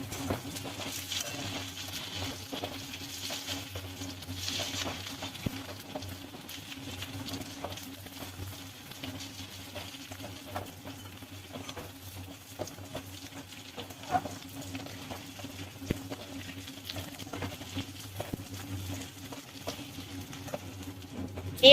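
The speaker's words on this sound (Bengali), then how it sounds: "আলু আর পেঁয়াজটাকে একসঙ্গে ভেজে নেব।" Potatoes and onions frying together in a pan, a steady quiet patter and soft sizzle with scattered small pops and stirring scrapes running throughout, no voices.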